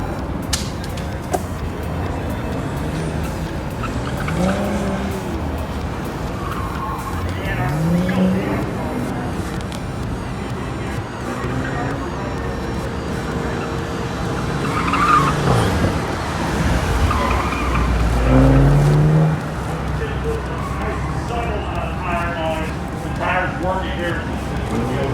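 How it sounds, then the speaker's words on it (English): A BMW corners hard on an autocross course, its engine droning while the tires squeal and skid in drawn-out bursts that swell and fade. Much of the run is covered by people talking. "The squealing tire is a happy tire up to the point, but then there's that point where the tire is crying and begging for mercy."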